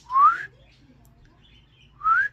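A pet parrot gives two clear, rising whistles about two seconds apart, each short and bright over a quiet room with no other sounds.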